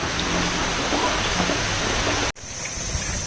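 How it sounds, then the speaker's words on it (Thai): Steady rain pours down on a rural garden during flooding, a dense, even hiss that continues unbroken before cutting off abruptly near the end. "ฝนยังตกต่อเนื่องครับ"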